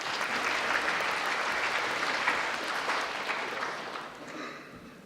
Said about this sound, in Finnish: Eiköhän antaa aplodit Niinalle ja Ristolle myös tästä alustuksesta